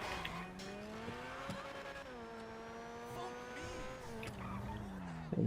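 A Benefactor Feltzer sports car in GTA V drives along with a steady, droning engine note that rises and dips, its pitch wavering as it slides and corners, heard fairly quietly throughout.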